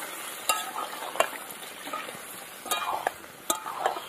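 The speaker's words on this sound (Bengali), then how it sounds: "এই যে আরেকটু নেড়ে নিলাম" Chicken curry with egg-laden country hen, cooked with kohlrabi, sizzles steadily in a pan as a spatula stirs it, with sharp scraping and clinking strokes at irregular intervals.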